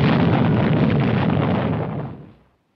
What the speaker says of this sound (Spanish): se produjo una tremenda explosión en la superficie del Sol